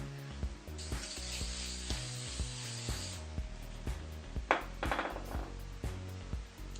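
An aerosol can of hairspray sprays in a long hissing burst, then a shorter puff, close by over a faint hum in the background.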